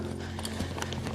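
A horse's hooves strike the ground in a steady, quick clip-clop rhythm as it is worked in training, close and moderately loud over a constant low background hum.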